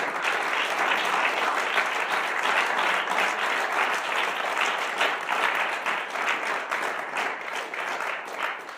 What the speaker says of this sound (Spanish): Un aplauso fuerte a la gloria de Dios.